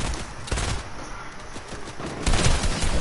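Rapid gunfire from the video game Fortnite, dense bursts of shots crackling continuously, growing louder and heavier toward the end.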